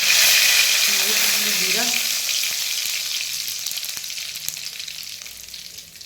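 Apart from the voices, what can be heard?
curry leaves sizzling in mustard oil tempering for dal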